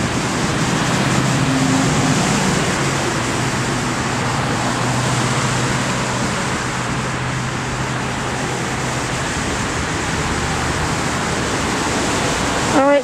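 Cars pass on a nearby road under trees, making a steady, loud roadway roar that barely rises or falls, with no breaks between vehicles.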